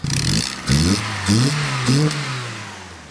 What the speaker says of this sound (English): If we give it some revs here.